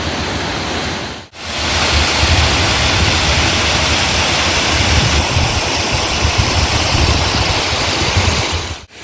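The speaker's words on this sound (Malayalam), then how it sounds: "ചെറിയൊരു വെള്ളച്ചാട്ടം" A small waterfall spills over stones banked up to hold back the water in a rural village stream, roaring steadily and close, broad and continuous after a brief break near the start.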